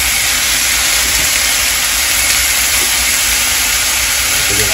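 Deer backstrap sears in a hot pan with a steady, close, loud sizzle that hisses evenly throughout without pause.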